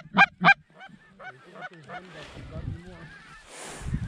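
Geese honk loudly twice during a goose hunt, then fainter honks and calls trail off while distant voices and rustling fill the background.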